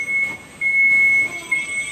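Metro train at a station platform, a steady rolling rumble with a thin, sustained high wheel squeal running across the passage, louder midway and fairly close, with no talking.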